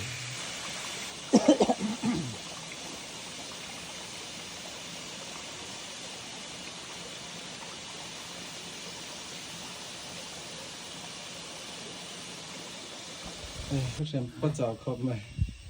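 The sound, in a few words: Vantawng waterfall in Mizoram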